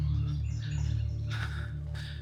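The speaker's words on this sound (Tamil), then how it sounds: "பறவைகளின் சத்தம் கேட்குதா?" Birds sing in a forest along a hiking trail in the United States, scattered chirps and short calls over a steady low hum, fairly faint, with two brighter bursts near the end.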